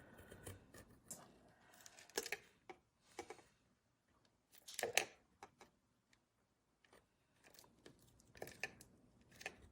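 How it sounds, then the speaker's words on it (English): Short snips of scissors cutting through pewter sheet and tape, heard as clusters of crisp close clicks and crinkles separated by brief pauses, fairly quiet. "I'm basically just cutting through the tape now because I've already cut through the pewter."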